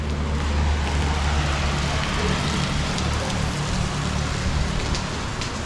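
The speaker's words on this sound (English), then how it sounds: "It's raining, but it's not cold." Steady rain hissing down across the whole stretch, with a low rumble of nearby traffic underneath; no voices.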